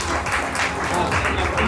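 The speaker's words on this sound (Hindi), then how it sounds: "हम अपने शिक्षक साथी के लिए तालियों में कमी नहीं करेंगे" Audience applause for teachers at an award ceremony, a steady dense wash of clapping filling the whole stretch at a moderate level, with some voices mixed in.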